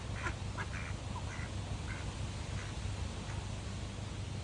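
Ducks quack repeatedly around a moored narrowboat, short nasal calls scattered across a steady low rumble and hiss. No voices.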